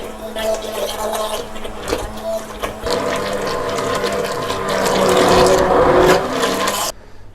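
Blender whirs loudly and continuously through a batch of ginger carrot soup, its churning motor tone shifting as the contents swirl, then cutting off abruptly near the end.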